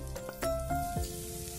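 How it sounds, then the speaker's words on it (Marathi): Ginger and garlic sautéing in hot ghee for Maharashtrian dahi kadhi, a short soft sizzle with a few spoon clicks and a faint tone, close and fairly quiet. "त्यानंतर आपण अद्रक टाकून घेऊया आणि लसूणही टाकून घेऊया. व्यवस्थितपणे परतून घ्यायचं आहे आपल्याला."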